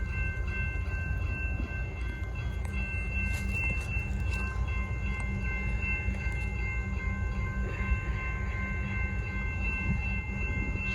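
A train passing a level crossing on Bay Street in Brighton, Victoria, heard as a steady, loud rumble that lasts throughout, with faint high tones from crossing equipment above it.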